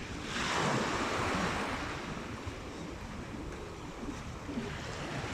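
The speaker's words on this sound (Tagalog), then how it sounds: "Ayan, ang lalaki ng alon." Big ocean waves crash and roll near a large island with a lighthouse, a loud surge of surf swelling early then settling into steady wash, with wind buffeting the microphone throughout.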